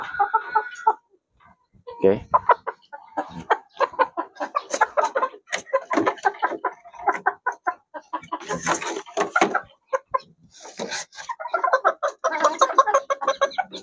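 Chickens cluck in short bursts, close by, with a person talking intermittently between and over the clucking.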